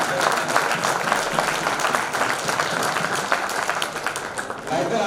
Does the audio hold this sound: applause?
yes